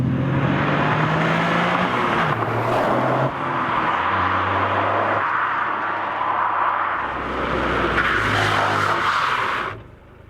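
A 2021 Toyota GR Yaris, a 261 hp AWD car, is driven hard on a track, its loud engine revving and shifting with changing pitch, tyres working through corners, close and continuous with no talk.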